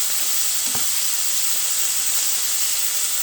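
Chicken for a bacon broccoli Alfredo hits a hot frying pan, a loud steady sizzling hiss close by with a single soft knock near the start and no talk.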